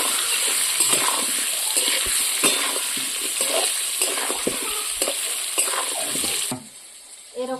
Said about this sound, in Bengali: ভালো করে আলুকে ভাজবো